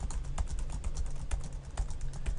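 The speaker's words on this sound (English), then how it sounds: "you can probably hear that I'm still typing" Rapid, irregular clicks of fingers typing on a computer keyboard during PHP form coding, close and steady throughout with no voice.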